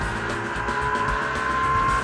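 A GT race car powers through the corners at Barber Motorsports Park, its engine a loud, sustained drone with a steady tonal whine and some tire scrub, close and continuous with no voices.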